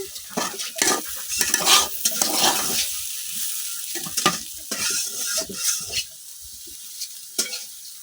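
Boiled potatoes and red lentils fry in a pan, a steady sizzle broken by repeated scraping stirs of a spoon against the metal, close up and without talk.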